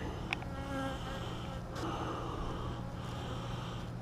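Honeybees around an open hive during a spring inspection, a soft continuous buzz with brief louder passes as single bees fly close by, heard alone without talk.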